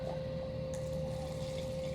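Nail polish remover is poured into a container in a steady, continuous trickling stream, heard close up and alone without any break.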